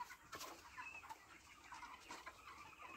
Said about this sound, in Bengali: এই আমাদের এখানে দেখুন ফার্মে কত পোল্ট্রি মুরগি।